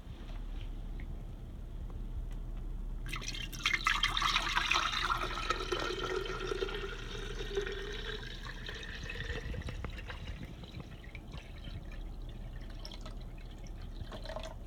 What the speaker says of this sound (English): So there I'm filling up the pitcher.